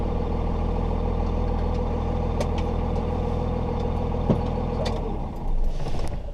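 A 2003 Chevrolet Silverado 2500HD swapped to a 24-valve Cummins diesel with an NV4500 transmission idles steadily with a deep, even rumble, a few small clicks on top and a slight swell near the end.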